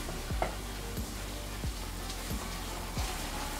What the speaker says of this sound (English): And you do want it boiling because you want to cook off the alcohol.